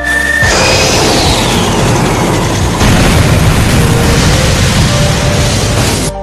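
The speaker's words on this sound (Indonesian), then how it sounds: "tiba-tiba ada serangan kertas meledak dari atas" A loud, sustained blast of exploding paper bombs in an animated scene, a dense rumbling roar that continues steadily before cutting off abruptly.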